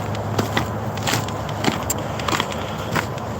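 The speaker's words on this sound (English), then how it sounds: "crunchy ground, exactly that's it" Footsteps crunch on hard frozen ground, a steady walking rhythm of crisp crackling steps, close and moderately loud against outdoor background noise.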